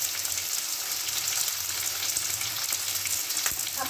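Turmeric with cumin powder, coriander powder, salt and ginger paste sizzles in hot oil in a pan over a medium gas flame for Bengali pui mituli chorchori, giving a steady, close, dense frying hiss with faint crackles and no talk.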